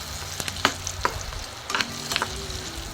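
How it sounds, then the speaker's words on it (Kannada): Spoon stirring churmuri, a puffed rice snack with curry leaves, in a pan: close, irregular scraping and rustling strokes with soft crackling sizzle, fairly quiet and without talk. "ನೋಡಿ, ಈ ಥರ ಆಡಿಸ್ಕೊಳ್ಳಿ ನಿಧಾನವಾಗಿ."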